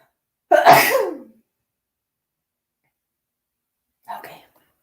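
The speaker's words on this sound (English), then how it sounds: "Excuse me, I'm going to sneeze." A single loud, close sneeze bursts out sharply and fades, followed by a few seconds of silence and then a brief, soft vocal sound.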